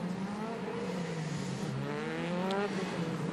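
A DTM race car from the 2015 season at Hockenheim runs through the Mercedes arena section, its engine droning steadily with rising and falling pitch as it works through the corners, loud and continuous throughout.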